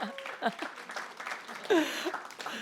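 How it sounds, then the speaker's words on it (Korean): Church worshippers at a Wednesday service applaud the music team, a short burst of clapping mixed with a speaking voice and a little laughter, moderately loud. "박수 한번 더 부탁드리겠습니다"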